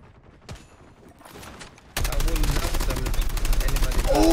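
Rapid gunfire in the mobile shooter COD Mobile erupts loud and dense halfway through, a steady barrage of shots after a quieter stretch of faint game noise.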